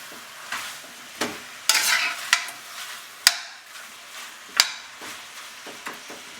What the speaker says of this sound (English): Allow this to just simmer in the pan so that the colors of the meat start to change and they start to brown.